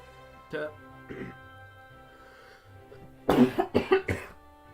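A burst of several harsh coughs in quick succession, loud and close, after a few quieter throaty sounds earlier on.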